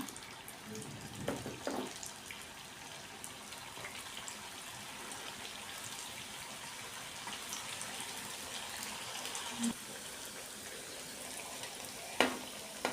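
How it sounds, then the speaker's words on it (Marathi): Snacks frying in hot oil in a pan over a low flame, a steady soft sizzle and crackle with a few sharper pops, close and fairly quiet, alone without talk. "पॅनमध्ये मी इथं तेल गरम करून ठेवलं होतं आणि तेल पण आपलं मस्त असं इथं गरम झालं आहे आता यामध्ये आपण एक एक करून आपला नाश्ता बनवलेला घालून घेऊया"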